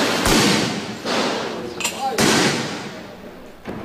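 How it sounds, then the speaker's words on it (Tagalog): Military mortar fire during fighting in Zamboanga City, with several deep, heavy thuds at intervals and lingering rumble, loud and near, with a voice talking over it. "Nagpakawala rin ng mortar ang mga sundalo."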